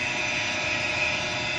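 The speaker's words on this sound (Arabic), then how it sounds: "البامب دلوقتي شغاله" Electric motor driving a centrifugal pump on an HVAC chiller, heard as a steady, even mechanical whir and hum with a broad hiss, constant and close throughout, with no talking.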